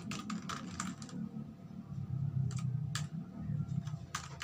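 Quick, light keystrokes on a computer keyboard while entering PHP code, soft clustered taps in irregular bursts, close and quiet over a low background hum.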